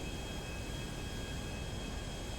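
An airplane passes overhead in GTA V, a steady broadband jet-like roar with a faint high whine, holding even and continuous throughout with no talk.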